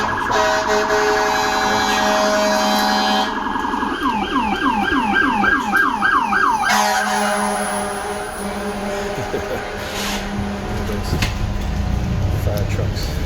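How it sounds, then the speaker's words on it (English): Fire truck sirens wailing loudly and close, switching between long tones and rapid yelps as the trucks pass, then fading away under traffic noise. "Fire trucks."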